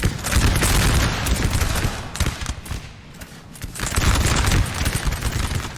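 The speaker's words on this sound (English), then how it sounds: "Bavaria has light infantry up in the front lines, already exchanging volleys with the Russian light infantry." Musket volleys crackle between Bavarian and Russian light infantry in a Napoleonic Total War 3 battle, dense overlapping bursts of rifle fire rolling on continuously, loud and close with a brief lull in the middle.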